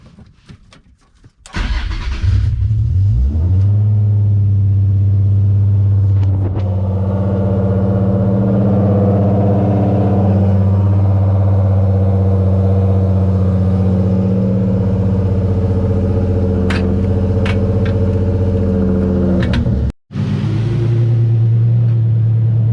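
Nissan G35 with a Nismo HR engine cranks and fires up, then settles into a steady, loud, close idle rumble that runs for about twenty seconds with a brief dropout near the end.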